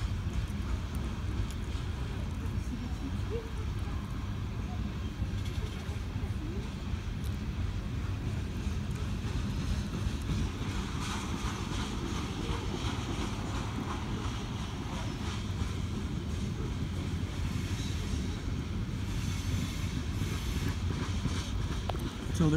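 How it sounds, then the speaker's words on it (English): A loaded Norfolk Southern coal train rolls southbound through Richlands, Virginia, giving a faint, steady low rumble and rattle of cars that continues without a break, mixed with wind noise. "Loaded coal tank. Southbound again."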